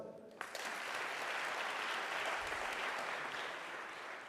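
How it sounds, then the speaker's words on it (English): A large audience at a university student recognition ceremony breaks into applause for hundreds of awardees, rising quickly after a short quiet moment and holding a dense, sustained wash. "Clap for them."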